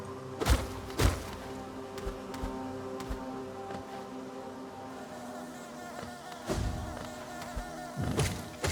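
Buzzing swarm of bees inside the Hollow Knight video game, a steady droning hum running throughout with a few louder thumping hits, heard alone without talk.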